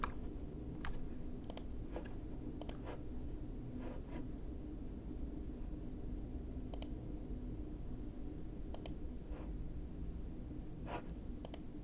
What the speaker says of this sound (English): I have a quieter keyboard now